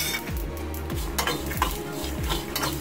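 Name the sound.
white sesame seeds crackling in a hot pan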